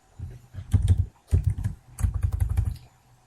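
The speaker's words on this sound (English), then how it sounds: "Sorry about the typing in the background." Rapid clattering keystrokes on a computer keyboard come in three quick bursts with short pauses, close by and with no voices.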